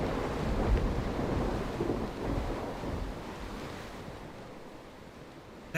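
Thunder rumbles in the Bannerlord video game, a loud, low rolling boom that slowly fades over several seconds with no talk over it.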